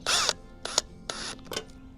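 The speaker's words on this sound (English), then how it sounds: "After centering the bracket, attach it to the post using the provided self-tapping screws." A power drill drives self-tapping screws through a deck railing bracket into a post in four separate bursts. The first run is the longest, then three shorter whirring runs follow, all close and loud.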